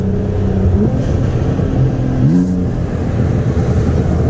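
A 2017 Nissan GT-R FBO on E85 racing a 2016 BMW M4 FBO on E85 with water/meth, pulling from 40 mph, a loud steady engine drone with rising revs over constant road and wind roar.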